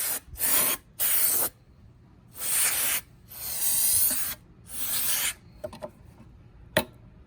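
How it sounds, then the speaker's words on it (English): Brake cleaner sprayed from an aerosol can onto the engine of a 2003 Mitsubishi Lancer ES during valve cover gasket work, heard as five or six close, loud hissing bursts of about half a second to a second each, separated by pauses, with no talking. "with the same bottle of brake cleaner, I'm going to get it nice and spray down."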